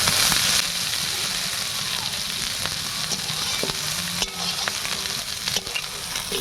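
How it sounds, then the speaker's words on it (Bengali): Carrot and other vegetables stir-fried in a hot pan at home for egg chow mein, a steady loud sizzle with scraping stirs and occasional clinks of the spatula, with no voices. "তো এখানে আমার সবজিগুলো সব ভাজা ভাজা হয়ে গেছে"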